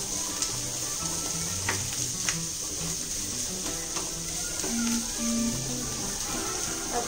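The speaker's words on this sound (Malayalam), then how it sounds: "നല്ലവണ്ണം ഒന്ന് വഴറ്റിയെടുക്കാം." Ingredients for egg roll filling sautéed in a pan, a steady close sizzle and hiss with occasional stirring scrapes and clinks throughout, faint and even in level.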